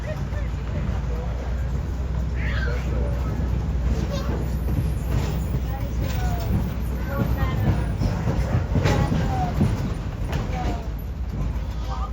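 A train pulls into the station platform at the National Railroad Museum with a steady low rolling rumble and faint rattles and squeals throughout.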